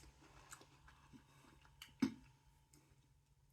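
Crunchy chewing of a Knoppers NutBar Dark, a wafer bar with nuts and soft caramel, faint and close, with one sharper bite-crunch standing out midway.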